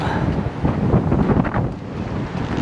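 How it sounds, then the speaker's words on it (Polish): Strong gusty wind in London buffets the microphone with loud, continuous roaring rumble, rising and falling over a few seconds, heard outdoors without clear speech. "ostro powiało dzisiaj no i cały czas wieje"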